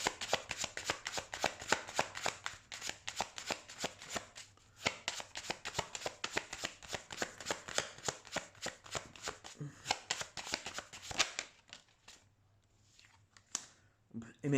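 Tarot cards being shuffled by hand, a long run of rapid, crisp riffling flutters close by, pausing briefly near the end before a few final snaps.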